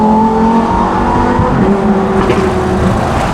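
A Lamborghini Huracan STO drives past from slow speed on an open road, its loud, steady engine note holding close throughout, rising slightly as it goes by with a harsh, buzzing exhaust tone.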